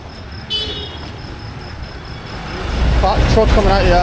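A truck and tractor roll past on a Delhi street, a horn tooting early on, then a loud, close engine rumble building amid traffic noise.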